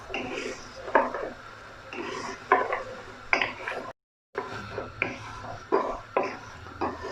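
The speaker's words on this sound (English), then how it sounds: "You need to stir this till they're dry, till the sugar is dry." Maychay sweet flour candy mixture with spaghetti and sugar being stirred in a pot, a steady run of scraping, clattering strokes against the pot with a short silent break midway, close and fairly quiet.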